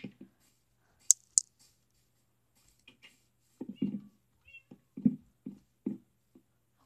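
An orange cat meows in the Minecraft video game, giving a few short, soft mews at intervals. Faint clicks come between them in an otherwise quiet scene.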